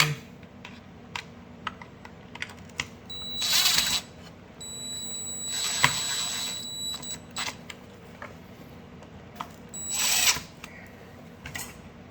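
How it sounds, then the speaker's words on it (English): A power drill whirs in a few short bursts while driving screws during a robotic pool cleaner repair, a couple lasting a second or two, separated by quiet pauses with small clicks and handling noises. "get a couple screws started here and then suck it down with my drill"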